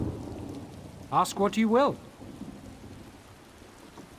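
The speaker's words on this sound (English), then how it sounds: "I could do without this damnable rain. It's been storming since we arrived" Steady rain and storm ambience in The Elder Scrolls Online, a continuous soft wash running through the whole clip while a character speaks briefly in the middle.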